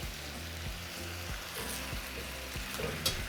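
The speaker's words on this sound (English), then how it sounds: "I'm going to flip my meat over." Carne asada steak flipped and sizzling on the heat, a steady crackling fry with soft pops and a faint clatter near the end, moderately quiet, with no talk.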